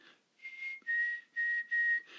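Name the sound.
whistle imitating a chickadee's song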